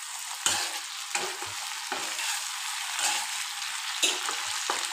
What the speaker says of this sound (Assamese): বিলাহী এই দুটা দি দিলোঁ। দি পেলাই এবাৰ ধুনীয়াকৈ লৰাই দিম